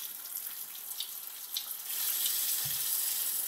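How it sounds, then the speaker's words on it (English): Water sprays steadily from a Hydro Cleanse bidet nozzle, a close hissing rush that gets a little louder partway through, with a brief low thump. "so we can actually change the direction of the water flow there"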